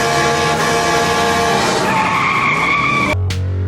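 A giant, menacing truck skids during a movie chase scene in Jeepers Creepers, its tires squealing in one long, loud screech that cuts off abruptly into a low rumble.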